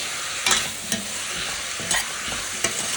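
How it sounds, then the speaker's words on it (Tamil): Chopped vegetables sauté in hot oil in a pan for pasta, a steady close sizzle broken by several sharp scraping knocks of a spoon stirring against the pan, with no voices. "இதை ஒரு 1-2 மினிட்ஸ் இப்படி ஆயிலில் வதக்கி விட்டுட்டு நம்ம சாஸை இதில் கொட்டிடலாம்."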